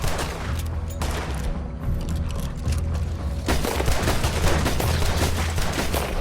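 Dense gunfire in the video game Red Dead Redemption 2, loud rapid shots from several guns cracking over one another in a near-continuous volley, with a brief lull partway through.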